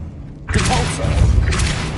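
The Depulso spell fires in the video game Hogwarts Legacy, a sudden booming thud with a whooshing burst that rings briefly and then trails off into a rumbling second swell.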